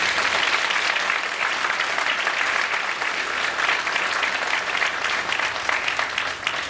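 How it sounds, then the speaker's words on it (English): Sustained audience applause at a school graduation ceremony, a full, even wash of many hands clapping that holds steady and loud throughout without pause. "Please give her a special round of applause."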